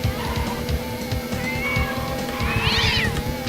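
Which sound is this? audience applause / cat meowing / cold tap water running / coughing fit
cat meowing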